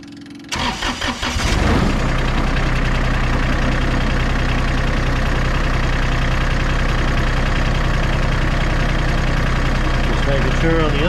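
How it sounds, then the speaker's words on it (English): A Kioti tractor engine cranks and starts, then settles into a loud, steady, heavy rumbling idle that runs on without pause. "now gotta turn the tractor on and lift that up"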